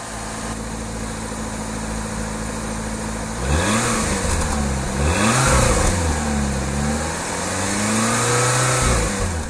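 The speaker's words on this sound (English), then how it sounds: "start the car up and enjoy having a silenced exhaust" A Daihatsu Cuore Avanzato TR-XX R4 engine with a newly welded exhaust idles with a deep, muffled exhaust tone, then revs up and down several times, the pitch rising and falling smoothly.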